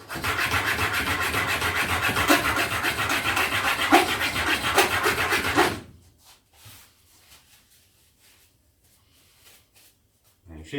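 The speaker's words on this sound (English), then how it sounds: "Now I'm just going to polish that up with a finer stone as we go down." A chisel rubbed back and forth on a finer sharpening stone gives a steady, close rasping scrape for about six seconds, then stops, leaving near silence with a few faint knocks.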